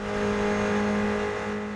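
Onboard engine note of the number 97 Aston Martin endurance race car in the rain at a World Endurance Championship round, a sustained droning tone holding steady pitch, loud and close with a slight swell and fade.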